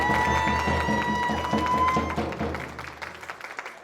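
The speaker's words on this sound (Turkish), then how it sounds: "Bir alkış damat bey için." Wedding guests applaud the groom at a celebration in Türkiye, a dense, loud burst of clapping that holds steady and then tapers off over a few seconds, with music in the background.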